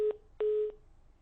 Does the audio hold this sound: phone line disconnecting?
yes